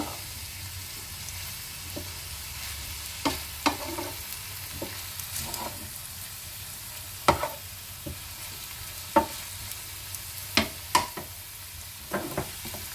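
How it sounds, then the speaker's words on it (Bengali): Drumstick stems stirred and frying in a pan after softening, with a faint steady sizzle beneath repeated sharp spatula scrapes and clinks at irregular intervals, no talking. "তারপর ভালোভাবে নেড়ে চেড়ে নেব।"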